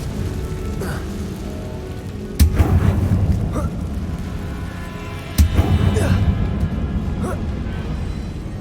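In the Hogwarts Legacy video game, a Confringo fire spell blasts twice, each a sharp boom followed by a crackling rumble, over a steady ambient wash of game sound.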